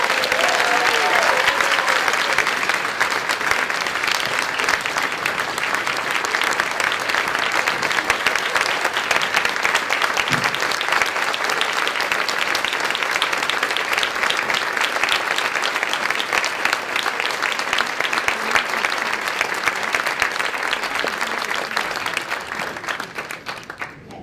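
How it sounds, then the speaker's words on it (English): A large audience at the 2017 ATHENA Leadership Awards event in Canandaigua claps in a big sustained round of applause, loud and steady for over twenty seconds before tapering off at the end. "Now you can join me in a big round of applause."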